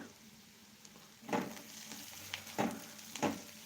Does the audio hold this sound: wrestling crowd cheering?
no